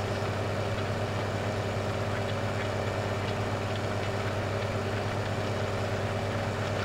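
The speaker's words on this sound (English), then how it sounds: "The sound of the tractor and the cultivator." Tractor pulling a cultivator in the video game Farming Simulator 15, a steady low engine drone with a constant rumble and a faint mechanical rattle, no voices.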